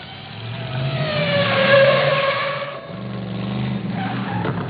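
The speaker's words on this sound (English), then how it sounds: "The noise of the engine of a real DeLorean today in 2020 is typically" Engine of a DeLorean car running and revving loudly up close, with a rising and falling tone, a brief dip near the middle, then a steady deep rumble.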